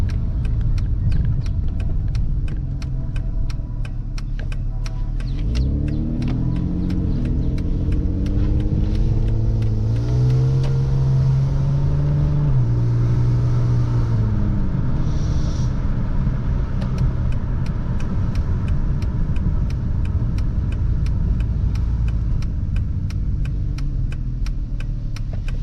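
A 2008 Dodge Avenger driving with its engine droning steadily inside the cabin, revs climbing and dropping through several gear shifts mid-run amid constant road rumble, no talking.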